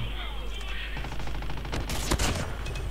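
Gunshots in a Call of Duty Mobile Halloween match: rapid, loud bursts of gunfire pound steadily, with a mechanical clatter and a sharper blast near the end.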